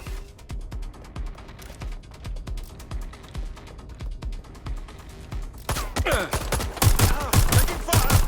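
Automatic gunfire from the video game Watch Dogs: Legion rattles in rapid bursts throughout, swelling into a denser, louder barrage with ringing mechanical clatter in the final seconds.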